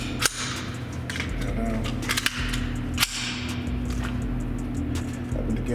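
A Hi-Point C9 9mm pistol fires four or five sharp, loud shots at uneven intervals outdoors, each crack ringing briefly over a low steady background hum.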